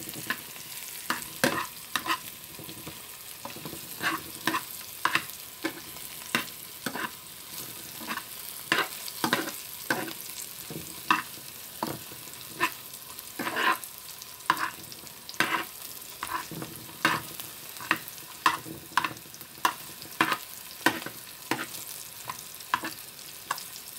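Potatoes frying in a pan, salted and browning: a steady soft sizzle with frequent sharp scraping stirs of a utensil against the pan, close and alone without talk.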